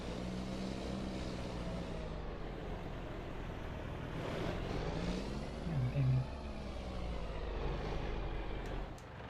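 Truck engine in Farm Sim 25 revving steadily as the vehicle pulls forward, a continuous low drone that swells briefly mid-clip, with faint talk in the background.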